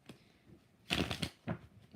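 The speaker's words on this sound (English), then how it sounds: "4 more shuffles" Tarot cards being shuffled by hand, a few soft riffling bursts close to the microphone with short pauses between, no speech.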